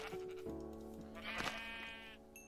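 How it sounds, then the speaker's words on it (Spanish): Sheep bleat in the Minecraft video game, a few drawn-out wavering cries close up and loud, with a rising bleat near the end and no talk over them. "Necesito dos ovejas más."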